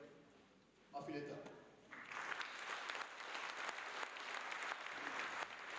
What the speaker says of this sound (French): Je vous demande d'applaudir Affiletta.